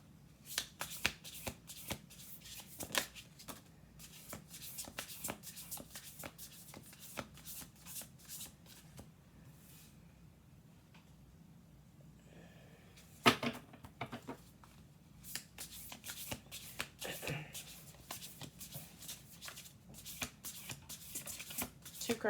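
Oracle cards being shuffled by hand, a dense run of rapid crisp riffling flicks that pauses briefly midway with one sharp knock, then resumes close and steady with faint room tone and no talking.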